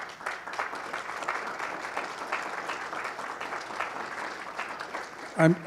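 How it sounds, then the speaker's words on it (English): Applause for the interpreters at a Latin American rule-of-law conference's closing remarks: a fairly soft, steady patter of clapping from a seated audience that carries on for several seconds before a brief louder sound at the end. "so glad of that applause"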